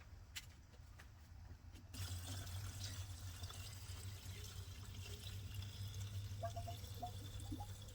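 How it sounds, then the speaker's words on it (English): Antifreeze coolant gushes out of the cooling system of a 2011 Chrysler 300 Hemi, a steady faint pouring rush that starts abruptly after a couple of seconds and continues without pause. "Definitely gonna flood out of this. It's poured out! It's poured out!"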